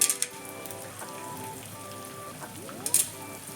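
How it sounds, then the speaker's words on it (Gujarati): Edible gum (gond) frying in melted ghee over medium heat: a steady, faint hiss and sizzle, with a few short louder crackles near the start and again toward the end. "આપણે થોડો થોડો કરીને બધો જ ગુંદર એમાં તળી લઈશું"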